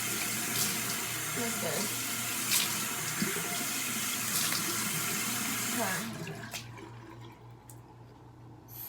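Tap water runs steadily into a sink as someone splashes it onto their face while removing makeup, a close, continuous gush with small splashes, ending abruptly near the end, while a person speaks briefly over it.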